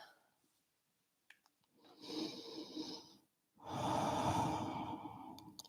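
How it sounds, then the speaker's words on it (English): Slow, steady breathing from a person holding a yoga pose in a class, with two long audible breaths, the second louder and fuller, separated by a short quiet gap. "we're gonna just stay here for 3 breaths"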